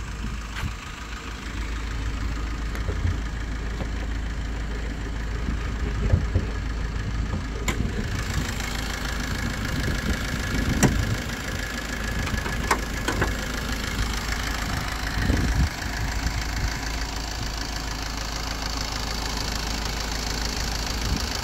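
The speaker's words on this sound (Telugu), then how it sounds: "ఇంజన్ అయితే స్టార్టింగ్లో ఉందండి" A Maruti Swift diesel engine idles steadily throughout, a low continuous rumble with a faint rattling texture, fairly close, with a few small clicks and knocks along the way.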